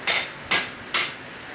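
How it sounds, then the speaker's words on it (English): A mallet hammer straightening warped metal strikes three sharp, loud blows about half a second apart, each with a short ringing tail, and no voices are heard. "mallet hammer, and it's just what you need to straighten out stuff like this"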